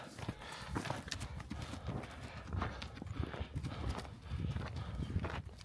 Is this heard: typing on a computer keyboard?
no